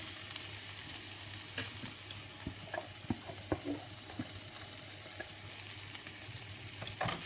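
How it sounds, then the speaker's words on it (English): A low, steady sizzle of chopped red and yellow peppers frying in a pan, with occasional soft clinks and scrapes of stirring. No one speaks. "you can just leave that frying away for really as long as you like, as long as you stir it"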